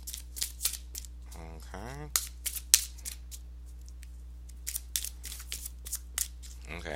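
Crisp, papery tarot card shuffling comes in quick bursts, close and moderately loud, with a brief spoken word and a short vocal sound in between.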